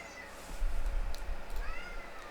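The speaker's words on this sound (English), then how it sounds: "Cat!" A house cat meows a couple of times indoors during a home gaming livestream, with short, clear mewing calls rising over a quiet room hum.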